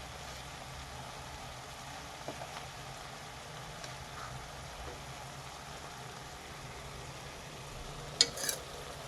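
Drumstick fry with curry leaves, salt and turmeric is stirred in a pan, giving a continuous low sizzle with faint scraping and a brief louder clink near the end.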